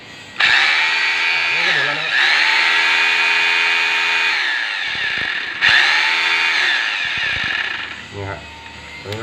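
A Makita M8701 rotary hammer drill runs in hammer mode with a loud, sustained whining buzz in several long runs, briefly stopping and restarting, with a faint voice under the tool noise near the end.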